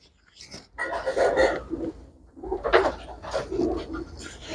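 Pigeons, among them a white female with black eyes, give close, soft cooing calls in two bursts separated by a brief lull.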